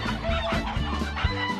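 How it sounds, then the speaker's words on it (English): Several chickens cluck and squawk loudly together, close by, in an agitated flurry. "And the chickens started squawking and flying around."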